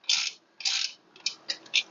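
A ratchet wrench tightens a bolt during a rucRak Grunt install, giving quick bursts of close, crisp clicking, two longer runs followed by three shorter ones, with no talking.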